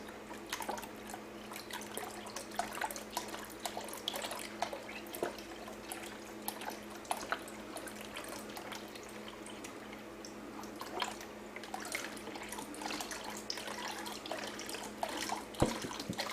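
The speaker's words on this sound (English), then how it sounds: "taking a while for this chicken broth to get poured out" Chicken broth from a carton dribbling and pouring out slowly, a faint steady trickle with scattered drips, no talking.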